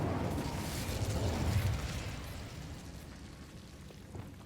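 In a video game, an Incendio fire spell erupts with a rumbling whoosh and burst that swells, then fades to a low crackling tail, with no voices over it.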